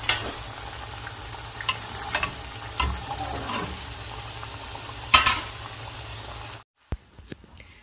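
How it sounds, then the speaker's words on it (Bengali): Egg pitha cakes made from rice and wheat flour sizzle in hot oil up close, with occasional scrapes and clinks of a utensil, before the sound cuts off abruptly near the end. "দেখো বন্ধুরা, মচমচে ভাজা হয়ে গেছে"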